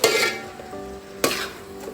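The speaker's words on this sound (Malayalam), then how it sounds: "5 മിനിറ്റ് സവാള നല്ലോണം വഴന്നു വരാനുള്ള സമയം എടുക്കും." Onions sautéing in a pan for Kerala-style Hyderabadi chicken dum biryani, with close crackling sizzle and scraping stir bursts that recur about every second.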